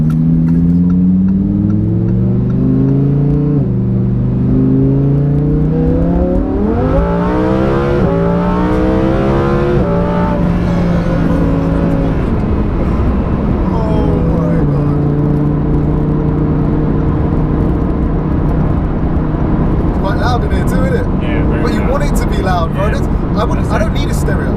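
A 640 bhp Lamborghini Huracán Performante engine revs and accelerates loudly, its pitch sweeping upward in several rising pulls, with excited voices talking over it.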